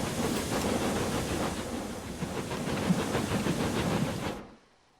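A train departs in Transport Fever 2, a steady rumbling rail noise with rhythmic clatter and hiss that holds for several seconds and then cuts off abruptly.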